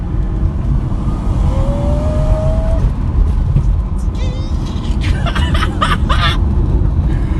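Fully restored BMW E30 accelerating past 4,000 RPM, a steady loud engine drone heard from inside the car with road noise, and someone talks briefly over it.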